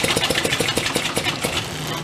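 Pre-war Elgin cycle engine, long stored in a barn, briefly firing: rapid close, loud putting pulses in an uneven rhythm that fade into a rough, lower run before cutting out.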